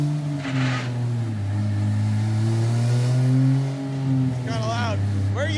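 A turbocharged 2JZ-swapped Dodge Charger engine revs, its tone sweeping up and down in a loud sustained roar, with brief high turbo chirps near the end and people talking over it.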